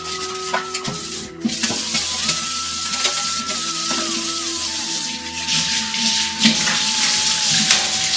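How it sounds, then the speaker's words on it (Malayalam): A scrubber rubs over a kitchen sink in a steady wet scrape, close and continuous, with faint background music. "ഇത് സിങ്ക് കഴുകണ സ്ക്രബ്ബർ"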